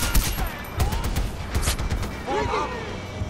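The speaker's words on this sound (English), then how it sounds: "The mortar fire is the worst part of it." Mortar fire pounds during a battle in Far Cry 4, with heavy booming blasts and sharp crackling impacts close by, repeating across the moment as a voice talks over the din.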